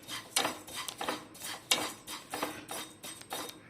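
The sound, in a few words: flattened rice (aval) being roasted and stirred in a pan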